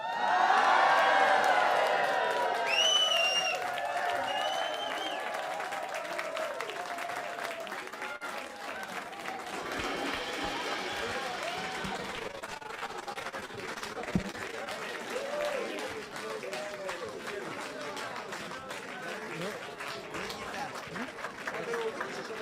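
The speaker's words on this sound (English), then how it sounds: "One more great big applause" Large audience applauding and cheering at an evening event, a long loud roar of clapping with whoops and shouts, loudest at first and then settling into sustained applause with voices throughout.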